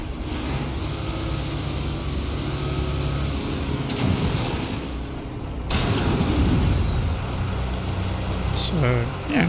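An exploration vehicle in the No Man's Sky video game rumbles along with a steady, loud engine drone and low mechanical roar, shifting abruptly in intensity partway through, with a brief hiss and faint chirps near the end.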